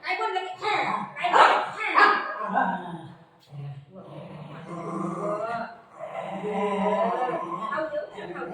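A pet golden retriever gives short barks and yips indoors, mixed in with a person talking and chuckling nearby.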